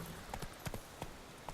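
Roach, Geralt's horse in The Witcher 3, approaches with a quick series of clip-clopping hoof strikes at moderate distance over a steady ambient hiss.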